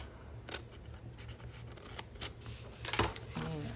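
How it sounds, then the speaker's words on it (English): Scissors cut paper for a junk journal kit in a quiet room, giving a handful of faint, sharp snips spread unevenly across a few seconds, with a brief soft rustle near the end. "I'm gonna just cut that with my scissors"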